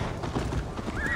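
Horse hooves clip-clop at a gallop in the Viking-era video game Assassin's Creed Valhalla, with a brief whinny near the end, steady and moderately loud within a short busy game mix.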